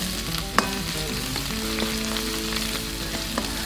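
Crushed garlic and onion sauté in olive oil in a pan with a continuous close sizzle, a sharp clack of a utensil near the start and soft stirring, while faint tonal music plays behind.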